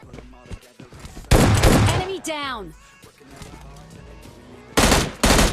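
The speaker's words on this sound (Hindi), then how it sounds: "उतरते मिल जाती है काली शक्तियों वाली गन, और इसका उपयोग करेंगे पहली बार" Bursts of video-game gunfire from a weapon with dark powers: loud, short volleys near the start and end with whooshing effect sweeps between, heard alongside speech.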